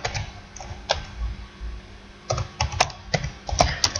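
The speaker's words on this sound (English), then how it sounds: "And also you can type a name for a task." Keystrokes on a computer keyboard as a task name is typed into desktop backup software, a few scattered clicks followed by a quicker burst of typing, close and fairly quiet with no voices.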